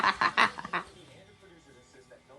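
A pet bird squawks in several loud, close bursts at the start, then quieter chirps and mutters follow under a soft background; a person talks to the bird nearby.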